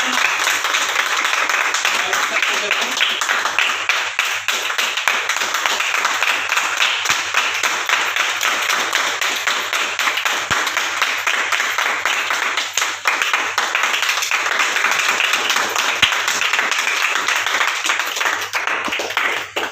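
Sustained applause from an audience at an inauguration ceremony, dense steady clapping from many hands filling the hall for about twenty seconds without a break.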